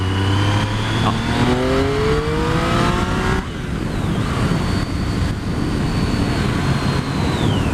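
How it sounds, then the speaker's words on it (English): A 2012 Triumph Street Triple on its stock exhaust roars steadily as the throttle is twisted, with rising engine tones and a whistle layered over dense rumble. The sound is loud and continuous, with no talking. "the sound when you twist the throttle is just addictive. And these are standard exhaust as well"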